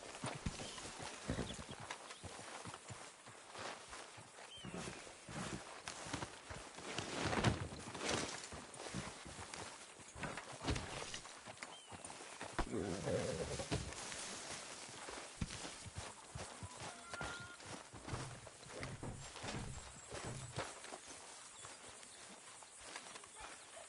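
Horses walking around a camp in Red Dead Redemption, irregular hoof clip-clops on dirt at moderate distance, with occasional snorts and faint ambient birds.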